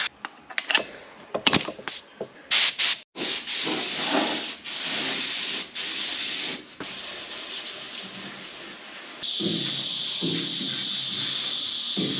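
Aerosol or spray gun primer hisses onto a car cab and chassis in bursts, first short sputters and then long continuous sprays, close and loud, with a final steady hiss.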